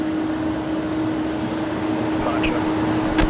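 A US Air Force C-17 taxis slowly along a taxiway at Brisbane Airport, producing a steady, distant jet engine drone with a constant whine that holds throughout.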